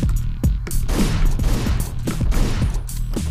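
Gunfire in the top-down action game Hotline Miami: a rapid run of sharp shots over a steady, pounding electronic soundtrack, with several distinct blasts standing out through the music.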